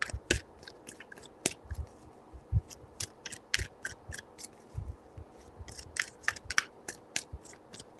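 Tarot cards being shuffled by hand, a quiet run of crisp card riffles and taps in irregular bursts, close and soft with no talk.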